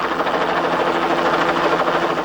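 Helicopter with a jammed rear rotor, a loud steady droning whine with a fast pulsing flutter, close and continuous with no talk.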